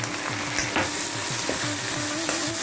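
Shallots and tomatoes sauté for a sambar in a pan, giving a steady close sizzle with soft spoon scrapes and stirring knocks throughout.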